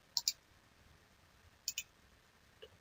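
Two pairs of quick, crisp mouse-button clicks, well apart and close by, against a quiet background.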